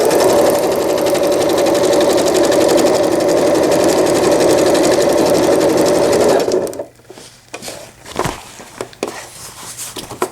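A sewing machine stitches fold-over elastic onto a diaper cover, running in a loud, steady, fast whir for about six seconds before stopping, followed by quieter handling knocks and fabric rustles.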